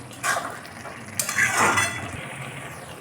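Taro curry with green chillies is stirred in a pan, with a metal spoon clinking and scraping against the pan over a soft frying hiss, close up and without voices.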